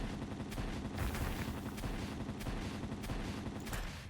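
Gun in the Palworld video game firing continuously: dense, rapid bursts of shots rattling on without pause, loud and close, with no talk.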